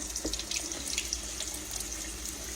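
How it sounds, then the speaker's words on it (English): A steady stream of cold tap water splashing and rinsing chicken livers in a colander, with soft shifting gurgles, fairly quiet and continuous. "You're supposed to wash them in cold water"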